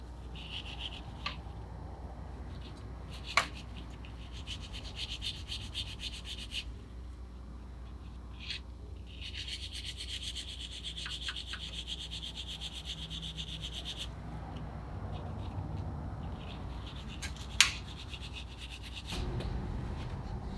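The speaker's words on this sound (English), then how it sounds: "I'm just going to use this red Scotch-Brite pad to kind of scuff them up" Copper washers are scuffed with a red Scotch-Brite pad in bursts of close, steady rubbing and scratching, separated by pauses and a few sharp clicks.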